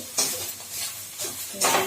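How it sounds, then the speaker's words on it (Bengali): Boiled dal and grated coconut are stirred in a wok, giving three short, close scraping swishes against the metal with quieter gaps in between. "নারকলের সাথে ডালটা ভালোভাবে যাতে মেখে যায় সেইভাবে এটাকে ভালোভাবে নাড়িয়ে দিতে হবে"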